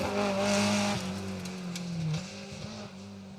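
A BMW E30 M3 rally car drives an asphalt stage at the Argyll Rally. Its engine drones loud and strained, with the pitch dipping and climbing as it shifts and works through the stage.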